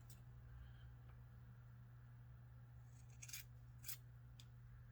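Scissors snip crochet yarn while trimming strands on a child's turtleneck poncho, a few faint, brief clicks late in an otherwise quiet stretch with steady low hum.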